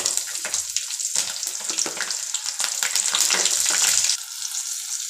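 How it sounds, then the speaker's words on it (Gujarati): Stuffed Kathiyawadi green chilies sizzle steadily in hot oil with popping mustard seeds and curry leaves, a close, continuous fry that drops slightly in intensity near the end. "રાઈ તતળી જાય ને ત્યાં લગી રાખવાની. પછી એમાં મરચાં નાખી દેવાનું."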